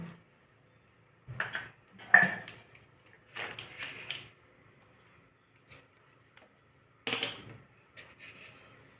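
A small iron pan for sautéing clanks and scrapes against utensils in a kitchen, several separate metallic bursts of clatter with short pauses between them, close and moderately loud.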